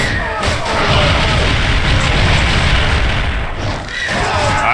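Dense, continuous battle din from the Kingdom Under Fire: The Crusaders video game, with booming explosions and gunfire-like bursts layered into a loud, steady wash of combat noise lasting throughout.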